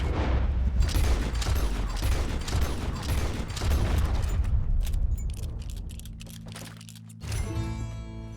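A rapid burst of gunshots in Red Dead Redemption 2, sharp repeated cracks over the first five seconds, then fading into low rumbling ambience with a brief tonal sound near the end.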